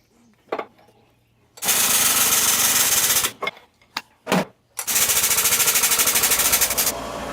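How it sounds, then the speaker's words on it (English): Bursts of rapid, loud mechanical hammering, probably an air hammer, drive new king pin bushings into a VW axle, in long sustained runs separated by short taps and pauses, with no talking. "So now we're going to install new bushings"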